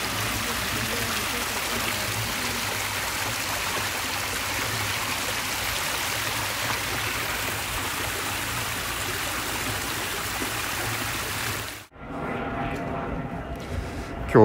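Steady rushing of a flowing stream at the source of the Kanda River, Inokashira Park, Kichijoji, Tokyo, continuous and fairly close, broken by a brief cut near the end before the water noise returns more softly.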